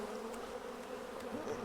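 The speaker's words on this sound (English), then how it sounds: "It's a lot of bees, y'all." A large swarm of farm honeybees buzzing close by, a dense, steady hum with individual bees whizzing past near the listener, no voices.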